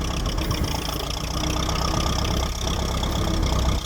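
A 1950s Ferguson TED 20 tractor fitted with a backhoe idles steadily close by, its engine ticking over in an even, slightly knocking chug that stays loud and unchanged throughout.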